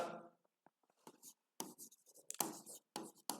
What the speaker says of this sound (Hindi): चलो लिख देते हैं